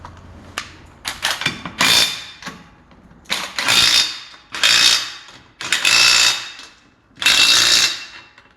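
An impact wrench fires in a series of loud bursts, about six, separated by short pauses, while tightening wheel lug nuts on a 2012–2018 Nissan Sentra during a rear wheel bearing job.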